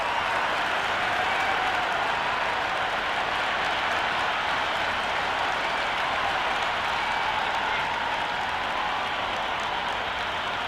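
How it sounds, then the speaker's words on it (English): A crowd at a Big Bash T20 match between Brisbane Heat and Perth Scorchers in Cricket 26 keeps up a steady, dense roar with scattered applause that holds at an even level throughout. "already the crowd is up and about"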